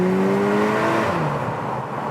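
A VW T-Roc R fitted with an Akrapovic exhaust, driven in race mode through a tunnel, gives a loud, steady engine drone with tones that sag in pitch, echoing continuously throughout with no talking.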